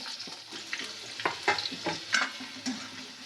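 A single onion frying with cinnamon, cloves, black pepper and cardamom in a pan for a fish meal, a soft sizzle broken by scraping strokes of a spoon stirring at an uneven rhythm, close and quiet.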